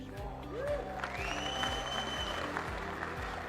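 Audience applause from a crowd at a Vestige business presentation, steady and dense throughout, mixed with a droning tone, some sliding whistle-like pitches and a rhythmic low pulse underneath.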